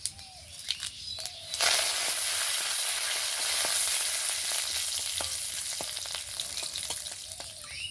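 Curry leaves and panch phoron hit hot oil in a pan with a sudden loud sizzle and crackle, a bright hiss that jumps up after a few quiet seconds and keeps popping steadily.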